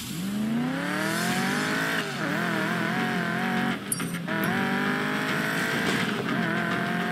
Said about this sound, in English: I'm not sure what Rav did to the Mustang, but it feels tight and heavy